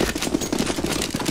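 Rapid automatic gunfire fires at zombies in the video game CS:GO, a dense burst of repeated shots lasting just over a second, loud and close.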